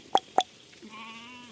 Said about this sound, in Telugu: దా దా ఇట్లా వస్తుంది పొట్టేలు